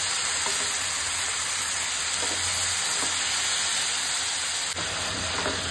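Tadka of curry leaves and asafoetida sizzling in hot oil, a steady bright hiss and crackle throughout, close and loud, with a brief pop near the end.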